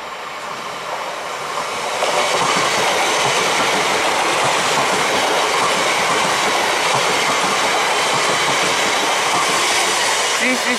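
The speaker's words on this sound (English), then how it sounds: "Here comes the 334 going non-stop between Edinburgh Waverley and" A Class 334 electric train passes non-stop through Jordanhill station, a loud continuous roar and rumble of wheels on rail that swells after the first two seconds and holds steady close by, with faint wheel squeal.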